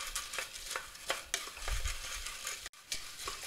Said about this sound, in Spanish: así va quedando nuestra pasta, se tiene que dorar bien doradita